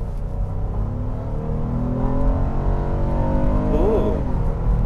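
A 2014 Acura MDX with VTEC is floored from inside the cabin, and the engine rises in a loud, steady climbing roar as the revs build and the pitch sweeps upward through the acceleration.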